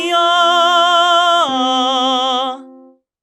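A tenor voice with a bright, light, ringing tone sings two sustained notes with gentle vibrato, stepping down at the midpoint before fading out, close and clear with no other sound.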